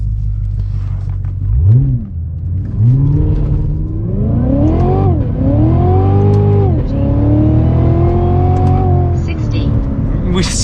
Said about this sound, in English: You could tell the tires were spinning quite a bit more on that run right there.